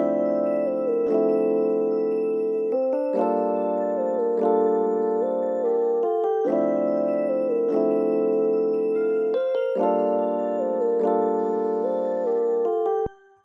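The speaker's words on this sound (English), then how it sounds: "So that layered with the bell and the Rhodes sounds like this." A synth lead layered with a bell and a Rhodes plays a looping melodic phrase over sustained chords in a plugg beat, bright and steady throughout.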